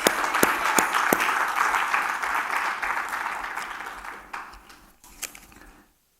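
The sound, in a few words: applause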